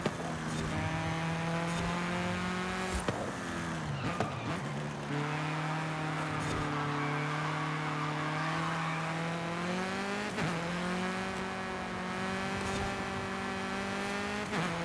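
A racing car engine in Forza Horizon screams steadily through a lap, loud and close, with pitch drops at several gear shifts and no talking.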